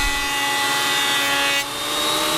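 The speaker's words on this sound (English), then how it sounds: "So I'm running it through the planer" A thickness planer feeds a wooden board through with a loud, continuous roaring whine that dips slightly partway, heard up close with no talking.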